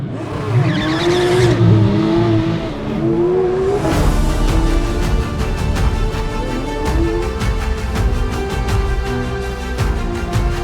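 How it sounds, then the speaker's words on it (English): Race cars at the 24h Nürburgring roar past loud and close, one engine sweeping by with a pitch change before a dense, sustained howl of revving engines takes over. "I'm blown away by the awesome sound of the cars."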